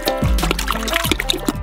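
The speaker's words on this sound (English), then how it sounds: "Five kilograms of gelatin should be poured into each of the juices." Gelatin, five kilograms per batch, pours into large pots of juice for a giant gummy worm, giving close splashing and gurgling liquid sounds with a few brief pitch glides.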